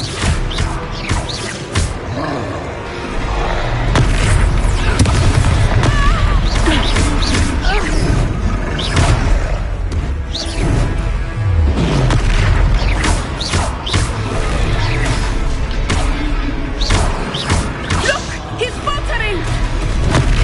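A spell blast in the video game Hogwarts Legacy lands amid a dense string of booms, crashes and whooshes, loud and busy throughout, with character voices mixed in.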